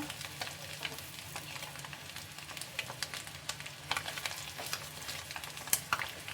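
Cut boiled eggs frying with curry leaves on a medium flame for a spicy egg pepper fry, a faint steady sizzle sprinkled with small crackles and pops.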